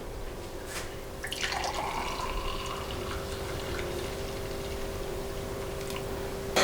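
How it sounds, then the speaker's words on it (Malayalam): Pomegranate lime juice poured into a glass: a steady close trickle of liquid whose tone rises as the glass fills, with faint background hum throughout. "ഇനി നമുക്കിതൊരു ഗ്ലാസ്സിലേക്ക് ഒഴിക്കാം."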